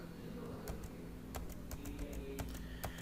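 Typing on a computer keyboard, a few soft, irregular key taps over a quiet steady background hum.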